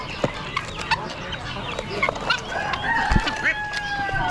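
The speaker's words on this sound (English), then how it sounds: "White leghorns." Poultry at an Amish animal auction where white Leghorn hens are on sale, with several short clucks and calls, including a rooster-like crow, rising over a busy, noisy crowd background.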